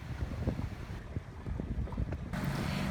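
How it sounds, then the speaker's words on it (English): A small dinghy's outboard engine running steadily while crossing open water, a low continuous drone mixed with wind buffeting the microphone and water splashing, with no talk. "The captain gets the engine going and then it's off to town we go."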